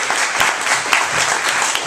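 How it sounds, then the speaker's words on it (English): A live audience at a comedy talk gives a short burst of loud, close applause, dense clapping with a few sharper individual claps standing out. "So please give him a big round of applause."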